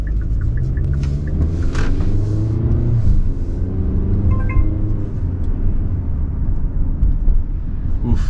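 A 2019 Hyundai Santa Fe SE rolls along at 25 mph, a steady low engine and road rumble filling the cabin without pause, with light tonal whine drifting over it.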